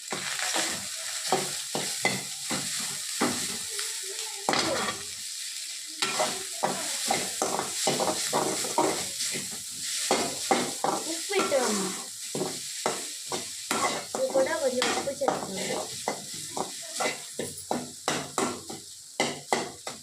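Egg rice with white rice, biryani powder, garam masala and pepper being stirred in a pan, rapid rhythmic scraping and tapping strokes over a steady sizzle, close and busy throughout.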